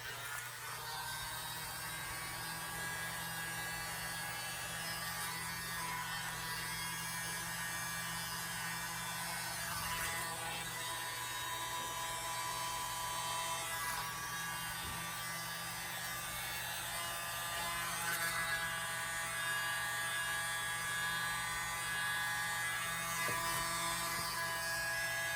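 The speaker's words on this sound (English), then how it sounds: "I got my little handy dandy blower" A small handheld air blower runs steadily for the whole stretch, a continuous buzzy whir close by, used on a small Dutch pour painting canvas.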